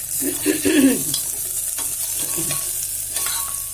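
Chili, ginger and garlic sauté in a pan with a loud, continuous close sizzle and a couple of stirring scrapes early on, heard alone without any talk.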